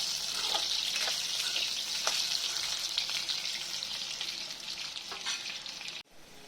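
Potatoes frying in oil, a loud continuous bubbling sizzle close by with scattered spits and pops, cutting off abruptly near the end before a quieter sizzle resumes.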